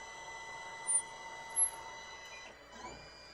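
A Creality 3D printer runs with a steady tonal whine of stepper motors, with two short louder bumps, then a shift in pitch near the end as the movement changes. No nozzle output is noted.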